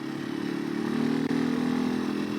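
A KTM 500 EXC-F dirt bike engine drones steadily with a raspy mechanical buzz, swelling slightly as it revs, close and loud with no talking.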